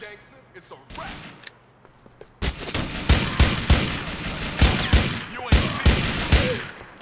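Gunfire in Grand Theft Auto 4, with a quiet, hissing lead-in that breaks into a loud run of sharp shots at an irregular pace, close and punchy, with no talk.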